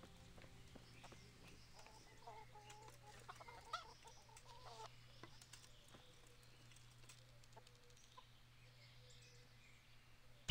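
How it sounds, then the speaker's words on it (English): Chickens cluck softly in the video game Kingdom Come: Deliverance, a faint continuous farmyard bed of fowl calls over a steady low hum, with no talking. "Cannot hunt chickens."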